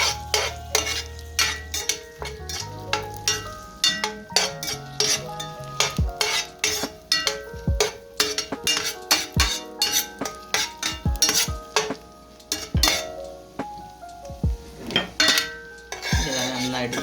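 Raisins fry in a pan and are stirred with a metal spoon while chamayari payasam is being made, giving repeated sharp clinks and scrapes against the pan over steady background music.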